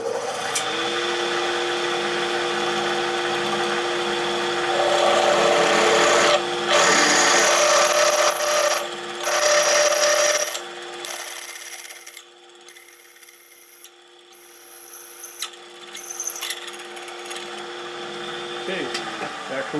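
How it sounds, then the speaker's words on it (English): Drill boring a clearance hole for a 5/16 bolt in a machine shop, a steady whirring drone that runs then cuts out and restarts in several short bursts, with some talk in the background. "Okay, you got the clearance hole drilled"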